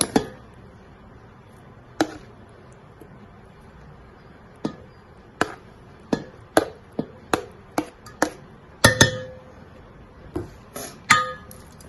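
Prawns being mixed with chilli, coriander and mint in a small pot, heard as a series of sharp clinks and knocks, sparse at first and then quicker and more irregular, close and clear.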